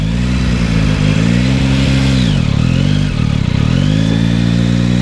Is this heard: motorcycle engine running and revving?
yes